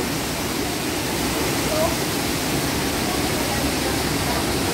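Steady broadband rush of Bega Falls in Prosperidad, Agusan del Sur, constant and fairly loud throughout, with no breaks or distinct events.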